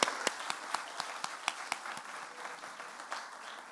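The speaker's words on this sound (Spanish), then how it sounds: "Creo que se merece otro gran aplauso." Scattered clapping from an audience, a few distinct claps standing out over a soft, steady wash of applause.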